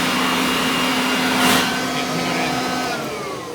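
A Kirby Heritage II replica upright vacuum cleaner runs close by with a loud, steady motor roar and a constant whine that never lets up.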